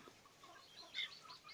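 A chicken clucks softly while pecking at papaya peels given as a snack, with a couple of brief, slightly louder clucks near the middle over faint farmyard background.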